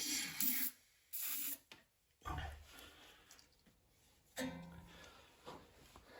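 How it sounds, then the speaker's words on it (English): Several short bursts of aerosol fogging oil hiss out into a lawnmower's spark plug hole, separated by pauses, with faint handling noises between them. "I'm just gonna use a little fogging oil right down the spark plug hole."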